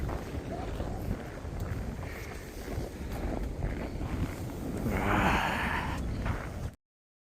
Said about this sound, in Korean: 바람 엄청 부네, 엄청 불어.